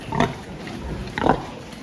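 Two short, low pig grunts about a second apart, close by, against a constant hum of barn noise.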